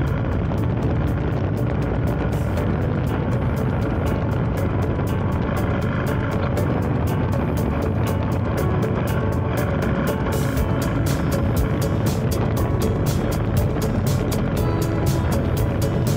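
A steady motorcycle engine drone runs continuously while riding through city streets in Pinevale, Cavite, with faint regular ticking on top and no voices.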